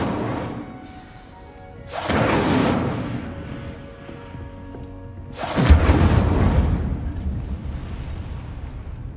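Incendio fire spell blasts in the Hogwarts Legacy video game: two loud, roaring bursts, one near two seconds and a bigger, deeper one near five and a half seconds, each fading into a rumbling tail over soft ambience.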